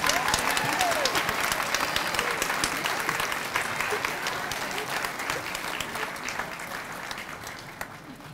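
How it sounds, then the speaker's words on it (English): An audience at a high school senior awards night applauds its honors students, with steady, sustained clapping from a large crowd that slowly fades over several seconds. "let's give a round of applause to our honors students"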